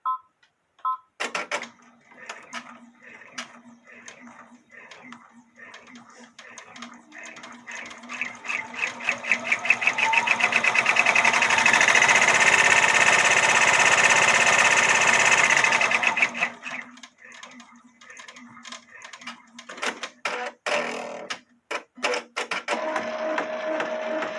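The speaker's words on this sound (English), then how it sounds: "we'll do the tack down stitch to hold the fabric in place" An embroidery sewing machine runs a tack-down stitch on appliqué fabric for a bodysuit, starting with rhythmic clicking stitches, swelling into a loud steady whirring run, then stopping and ending with scattered mechanical clicks and taps.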